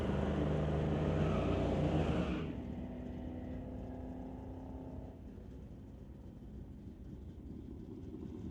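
A Mercury race car running down a drag strip at a street-legal night event: a loud roaring engine fades as the car pulls away, leaving a distant lower rumble.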